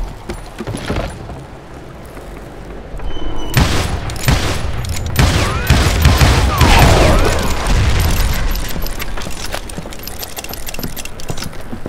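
Gunfire in the western video game Call of Juarez: Gunslinger: loud, sharp shots fired in several bursts, each followed by booming echoes and clattering debris that fill the scene.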